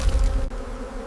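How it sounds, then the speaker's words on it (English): A swarm of angry bees buzzes loudly and continuously at close range in a dense, droning hum, with no speech. "A swarm of angry bees rises around her, and chaos erupts in an instant."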